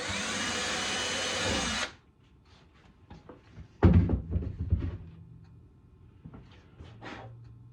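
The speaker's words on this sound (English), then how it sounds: "Might as well, you know, drill the hole." An electric drill bores a hole in the repaired headstock of a broken Gibson Les Paul guitar, a loud steady whine for about two seconds that stops abruptly, followed by quieter handling clatter and knocks.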